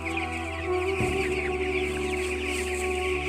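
Steady clucking and murmuring of many 12-day-old chickens in a poultry farm, a dense continuous chorus of fowl with a low constant hum underneath.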